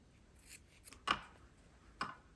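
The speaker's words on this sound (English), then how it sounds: "So I'm going to cut off my corners." Scissors snipping off fabric corners, a few quick close crisp cuts with soft rustles between them, quiet and alone.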